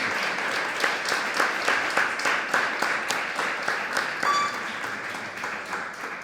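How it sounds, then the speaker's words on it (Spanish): Audience applause for four speakers at a communications graduate event, steady clapping from a roomful of people held at an even level for several seconds before easing off slightly. "Un aplauso para los 4."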